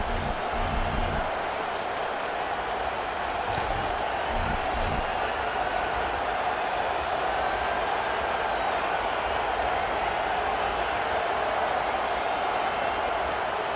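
Stadium crowd noise in a college football video game, Oklahoma versus Georgia, during a fourth-down field goal attempt: a steady, loud wash of roaring spectators sustained throughout, with a few brief thumps near the start.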